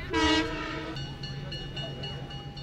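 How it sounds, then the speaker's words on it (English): A train horn sounds briefly at the start, followed by the low rumble and faint rhythmic clatter of a Downeaster passenger train moving along the tracks. "Next up, a Downeaster passenger train on these tracks in 2012."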